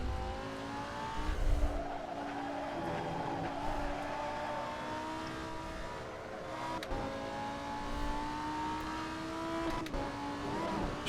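Race car engine with tire squeal and skidding in the Assetto Corsa racing sim, a steady loud engine drone with long sustained tonal squeals while cornering and brief bumps, no talk.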